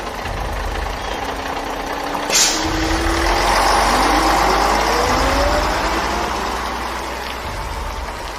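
A bus engine idles and then pulls away at night, a loud diesel rumble with a short hiss like an air brake release, then a rising, shifting drone as it moves off.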